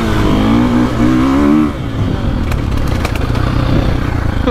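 A 2025 Honda CRF450R or 2024.5 KTM 450SXF Factory Edition 450 motocross bike on a GP track, its engine revving loud and close, easing off partway, then droning steadily with wheel spin and loose dirt.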